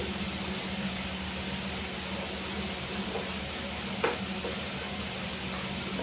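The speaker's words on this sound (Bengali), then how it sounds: "মশলাটা কষে নেব।" Spices sizzling in hot oil for a chicken curry, a steady close frying hiss that runs throughout, with one faint clink partway through.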